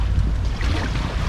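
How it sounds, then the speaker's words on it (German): Strong wind on the Wannsee in Berlin buffets the microphone during a canoe trip, a loud low roar that fills the short clip. "Aber ganz schön windig jetzt."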